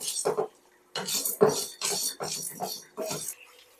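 A spoon turns and stirs pieces of food in a pan, close metallic scrapes and clinks in about six separate strokes with short pauses between them.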